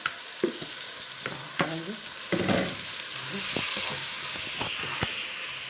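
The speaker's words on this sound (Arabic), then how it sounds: "هننزل بالبصل، معاكم كده نعصر البصل مع اللحمه المفرومه اهو" Onions frying with minced meat in a pan: a steady close sizzle with scraping and stirring clatter on top, and someone speaking briefly over it.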